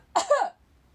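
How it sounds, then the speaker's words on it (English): One person gives a short, sharp cough, close and clear, two quick bursts run together and then silence. "Since coronavirus, coughing in public, even double masked, freaks people out."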